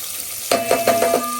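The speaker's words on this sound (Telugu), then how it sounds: "ఇది కొంచెం ఫ్రై అవ్వాలి" Food fries in a pan as onions and cardamom go in for a Telugu chicken fry and curry, a steady hiss broken by a few clattering stirs that land close and bright, with no talking.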